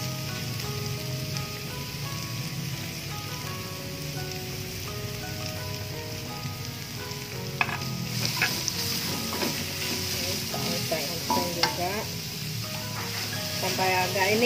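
Carrots stir-fried in a pan for a homestyle chicken and shrimp fuyunghai give a steady, close sizzle with scraping stirs, louder toward the end, over a continuous bed of background music.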